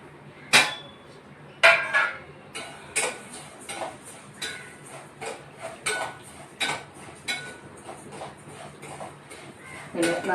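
Vermicelli being stirred in ghee in a hot pan, with repeated scraping and clinking strokes of a utensil against the metal, close and fairly loud, over a faint background sizzle.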